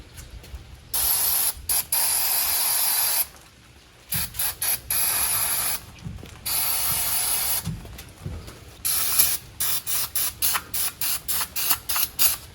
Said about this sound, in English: I am now going to go underneath and spray that entire spring and cable and housing